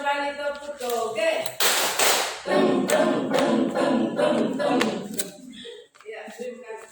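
Teachers at a school workshop perform a rhythmic group clapping chant, loud bursts of claps in unison alternating with a leader's spoken calls, ending with a short clap pattern.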